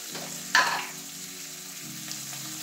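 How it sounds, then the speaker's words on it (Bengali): Green chillies and spices hit a hot pan with a short, sharp sizzle burst, then settle into a low, steady frying hiss over a faint hum. "কিছু কাঁচা লঙ্কাও আছে, এটাও ভেজে নেবো"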